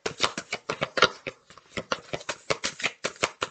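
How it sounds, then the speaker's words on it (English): Tarot cards are shuffled close up in a quick run of crisp riffling flicks, loud and rhythmic, with no voice over them. "let me get some more cards here"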